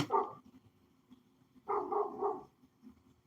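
A dog barks in short bursts, then a second, louder cluster of barks follows after a pause, fairly close with quiet between.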